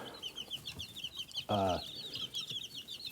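Chickens in a pen from combined flocks, with one brief close, loud clucking call rising mid-clip over a steady background of chirping birds.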